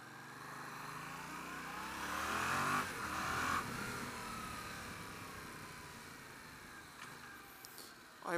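A Yamaha MT-07 Tracer motorcycle pulls away in town traffic, its engine note climbing through the revs and then settling, heard continuously with a rushing wind-like background.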